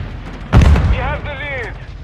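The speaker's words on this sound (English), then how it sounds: "Grenade out!" A grenade explodes in the mobile shooter game Warzone Mobile, a single loud, close blast that rumbles briefly and then gives way to a voice speaking.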